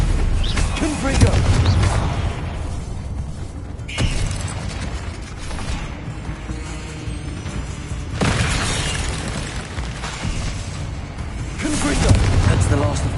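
Confringo fire-blast spells going off in Hogwarts Legacy during a spider-nest fight, loud booming bursts at roughly four-second intervals over a dense layer of combat noise and grunting voices.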